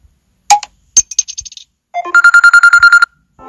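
A WhatsApp group notification tone called Opener plays on a phone: a few bright electronic blips and a rapid chiming arpeggio, loud and close with no talk.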